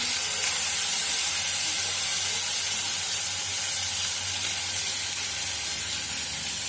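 Garlic paste and onion paste sizzle steadily in a frying pan, a loud, continuous hiss of hot oil with no pauses and no talk, for a vegetable curry of drumstick and tomato.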